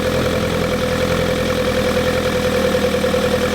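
A Hillman Hunter GLS engine with a Weber DCOE carburetor idles steadily while warming up, with a low, even rumble and a faint rhythmic throb, close and constant throughout.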